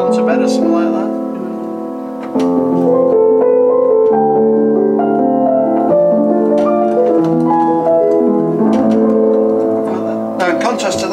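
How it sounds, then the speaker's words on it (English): A Yamaha U3 upright piano with its practice felt engaged between hammers and strings plays soft, muted notes and chords at a gentle pace, dampened and quiet, close by and without any talking. "it locks a felt in between the hammers and the strings to give you a nice quiet sound for practice"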